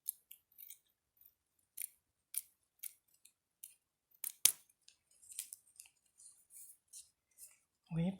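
Scissors snip roughly through material for decorating small jars, a series of short, sharp cuts at an uneven rhythm, close and fairly quiet, with no talking.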